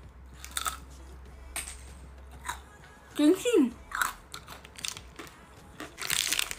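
Crunchy Korean ice cream with a hard ice shell is bitten into, giving a few sharp crackling crunches close to the mic, with someone talking around the bites.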